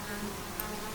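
Honeybees buzz at a mountain apiary in early spring as a soft, steady hum of many wings that fills the background evenly, fairly faint, with no voices.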